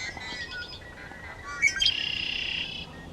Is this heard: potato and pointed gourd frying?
no